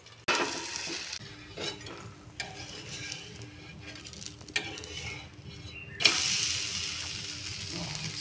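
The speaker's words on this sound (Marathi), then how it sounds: "चला आपण 1 मिनिट आता ह्याला झाकून ठेवूया म्हणजे आतल्यात चांगला वाफलतोय." A green moong dosa cooks in a covered pan, giving a steady, soft sizzle with occasional clicks and knocks from the lid and pan, close and continuous.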